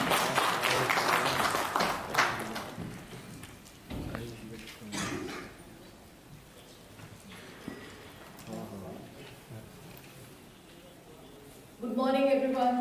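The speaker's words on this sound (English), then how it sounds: "Guys, can you have a huge round of applause for Dr." Applause rises from a conference audience at a cancer care event in Ludhiana, strongest at first and then thinning into scattered claps. A voice briefly speaks near the end.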